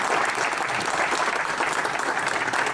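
Sustained, dense applause from an audience at an outdoor tribute event, a steady wash of clapping hands filling the whole stretch at even loudness.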